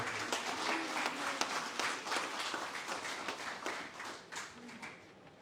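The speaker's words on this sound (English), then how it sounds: "Put your hands together for Nathan Sanderson." Audience applause fills a Christmas presentation night for a motorsport club as a winner is announced, a steady wash of hand claps that slowly thins toward the end, with faint voices mixed in.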